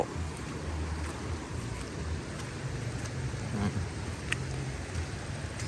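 A flat-bottomed boat runs along a river, its motor a steady low drone under constant water wash and wind rush, with no voices.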